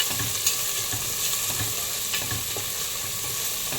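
Onions fry in a pressure cooker at the start of a Tamil-style chicken gravy, giving a steady close sizzle with occasional soft stirring scrapes and no talk.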